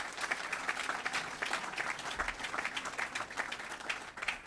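Audience at a touchdown club luncheon applauds its sponsors, steady crowd clapping with individual hand claps poking through, moderately distant and sustained throughout.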